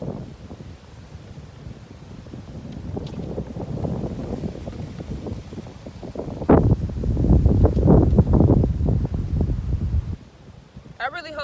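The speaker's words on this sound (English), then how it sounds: "I really hope this wind is not annoying." Gusty wind buffets an outdoor microphone in broadband rushing waves that swell louder around the middle before easing off, with a few faint rustles.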